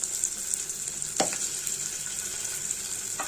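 Onions, ginger and garlic sizzling in hot oil, a steady close hiss of frying with a couple of brief scrape or stir sounds from a utensil.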